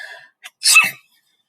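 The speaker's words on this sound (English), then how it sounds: "I sneeze." A short intake of breath, then one sharp, close sneeze bursting out.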